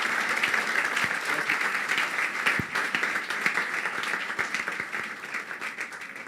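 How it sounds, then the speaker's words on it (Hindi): A church crowd applauds loudly, the clapping dense and sustained, then gradually tapers off toward the end. "उस यीशु के लिए जोरदार तालियां बजाएं"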